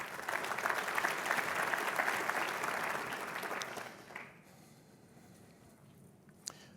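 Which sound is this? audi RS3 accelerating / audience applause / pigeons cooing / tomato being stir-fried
audience applause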